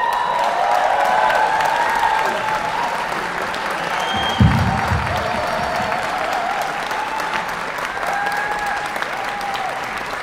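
An audience applauds prize winners at a singing competition with loud, sustained clapping that fills the hall and holds steady throughout, with faint cheering mixed in.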